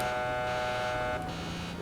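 A truck's alarm sounds in the video game GTA 5, a steady buzzing electronic tone with a slight shift partway through, continuous and fairly prominent with no speech over it.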